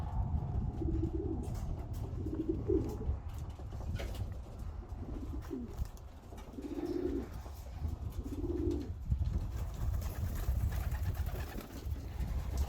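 Young pied white fighter pigeons coo softly in a loft, a series of low rolling coos repeating every second or two against steady background noise, with no talk.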